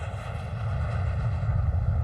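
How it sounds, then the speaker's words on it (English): Steady drone of an airplane in flight, a continuous engine roar with a constant hum, heard close and alone throughout. "Douglas was on the next plane to Buffalo."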